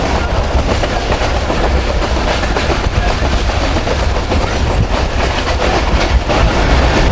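The Millat Express rolls along the rails between Lalamusa and Karachi in a loud, continuous rumble with rhythmic clickety-clack of the wheels, heard from inside the moving train.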